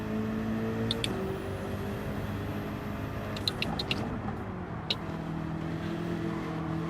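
A Citroen race car in Gran Turismo 7 drones with a steady engine note, holding and shifting pitch under a few brief sharp clicks, continuous and moderately loud throughout.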